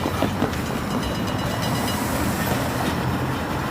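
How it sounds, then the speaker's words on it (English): A long freight train loaded with scrap metal rolling through Iron Mountain, a continuous loud rumble of railcars with faint wheel clatter and no voices. "Now that is what you call a train"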